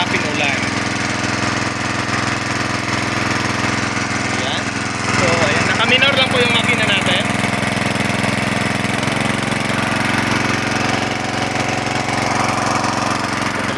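A small gasoline water pump engine runs steadily and loudly throughout, a constant mechanical drone with a slight rise in intensity midway, with faint voices underneath.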